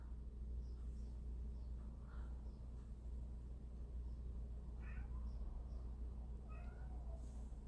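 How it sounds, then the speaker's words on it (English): A cat meows indoors, a few faint, short calls scattered over a low, constant room hum, distant and quiet with no speech. "Luna, are you meowing at Grace?"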